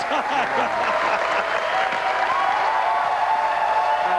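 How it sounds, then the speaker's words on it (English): A big crowd at the 2003 PBA Earl Anthony Classic bowling semifinals in Tacoma erupts after a perfect 300 game, sending up loud, sustained cheering and applause that fills the whole moment. "Sends this huge crowd in Tacoma into a frenzy"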